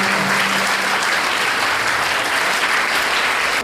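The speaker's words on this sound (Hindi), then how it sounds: "तो मैं चाहूंगी कि आप जोरदार तालियों से एक बार फिर से" A school audience applauds loudly for a visiting former education officer, a thick, sustained wash of clapping that holds steady before cutting off sharply at the end.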